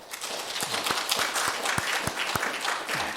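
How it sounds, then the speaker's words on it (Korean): A church congregation applauds during a Sunday worship service, with dense, continuous clapping from a sizable crowd and a few sharp low thumps standing out through the roar. "인사하고 들어가실 때에 크게 박수로 우리 격려해 주시기 바랍니다."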